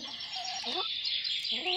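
Domestic chickens kept at a rural home give clucking calls, several short rising and falling notes close by, over a steady hiss of background noise with no talking.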